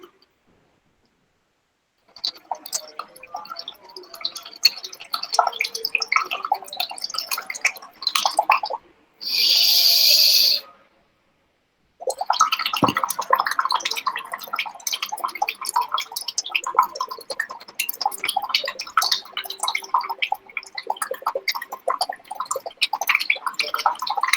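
Air blown through a straw into a glass of water makes long stretches of soft, rapid bubbling and crackling, broken by a brief pause and a short louder burst in between.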